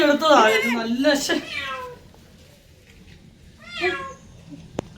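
A kitten meows twice, a longer cry after speech at the start and a short one later, fairly close, with a voice talking early on.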